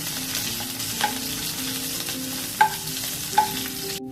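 Onions and green chillies frying in a pan while a spoon stirs them, a steady close sizzle with a few sharp scrapes and clinks of the utensil against the pan, no talking.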